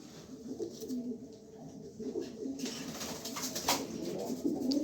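A male Afsan Giriz pigeon coos in low, throaty repeated phrases close by, while a voice talks over the birds.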